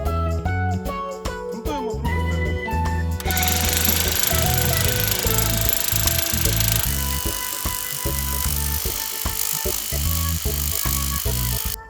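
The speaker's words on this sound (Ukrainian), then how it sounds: "Другий стержень ми фіксуємо за допомогою молоту для того, щоб він не шатався." A hammer drives a metal grounding rod into sandy soil, rapid metallic hammering pounding away steadily and loudly throughout, a rhythmic series of sharp strikes with a ringing, clanking edge.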